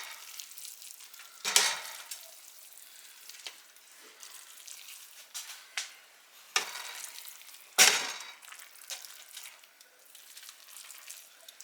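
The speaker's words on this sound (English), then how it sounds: "give this a good stir" Noodles frying in a pan on a stovetop are stirred, with a soft steady sizzle broken by several sharp scraping stirs, a few louder than others, and no talking.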